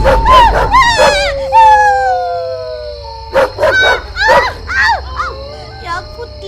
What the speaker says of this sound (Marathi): तो बाहेरचा कुत्रा भुंकतोय